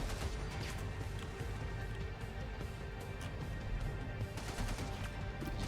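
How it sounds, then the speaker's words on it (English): A flashbang grenade detonating in the video game XCOM 2, heard as a dense burst of crackling, rattling impacts that carries on loud and steady for several seconds with no voices over it. "then you're going to flashbang"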